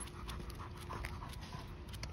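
A dog pants rapidly and rhythmically close by, quick quiet breaths in an otherwise calm setting, with no talk.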